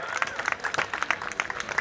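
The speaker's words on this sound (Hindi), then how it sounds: "उनके सम्मान में पूरी टीम के लिए जोरदार तालियां था।" An audience claps for a team at a Holi gathering, a short burst of quick, uneven handclaps of moderate loudness with some voices underneath.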